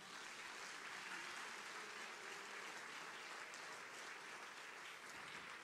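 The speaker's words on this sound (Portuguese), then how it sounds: "Pode aplaudir." A church congregation claps together during a service, a dense, steady wash of applause filling the room at close range from start to finish without a break.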